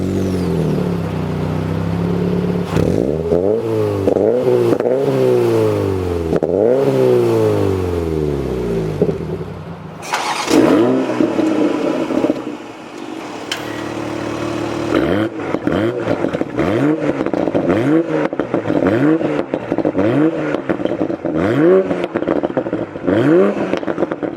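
An A90 Toyota Supra with dual exhaust revs repeatedly, each sweeping rise and fall loud and near. A brief pause leads into a rapid string of shorter throttle blips, with no speech.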